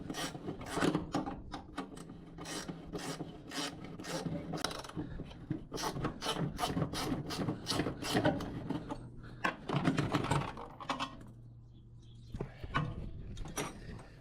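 A wrench works a stubborn seat bolt loose on a 1978 Chevy K5 Blazer under restoration, giving close, repeated rasping ratchet strokes in uneven bursts with short pauses between.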